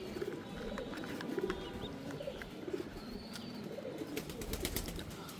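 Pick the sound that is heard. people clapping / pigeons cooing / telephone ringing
pigeons cooing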